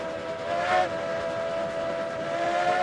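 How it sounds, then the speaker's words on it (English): A steam train whistle from the Railroads Online video game, a sustained steady tone blowing for several seconds over a low rolling rumble of the train, fairly loud and close, with no talking. "when this train rolls up on me and the whistle just goes off, I jump every time"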